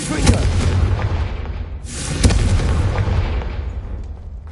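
Confringo blasting spell fired at braziers in Hogwarts Legacy on PS5: two loud, booming magical explosions about two seconds apart, each a sharp burst that rolls off into a rumbling tail, with no talk over them.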